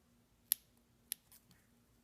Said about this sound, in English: Careful with your scissors.